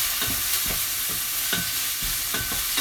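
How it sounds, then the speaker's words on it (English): Pumpkin sauce for pappardelle sizzles steadily in a hot pan, a constant hissing crackle with periodic scraping thuds of stirring, close and fairly loud. "Okay, so that's sizzling away."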